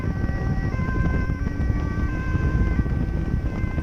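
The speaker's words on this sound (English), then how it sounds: "The silence, the siren, and the whistle is making me super stressed," A siren wails continuously in a steady drone over rumbling background noise, with no one speaking.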